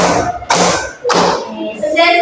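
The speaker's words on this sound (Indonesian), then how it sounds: "Diulang ya, tepuk dua tambah dua." Classroom rhythmic hand clapping in a two-plus-two pattern, sharp claps in small bursts from a group of children and a teacher, close and loud, followed by a voice speaking.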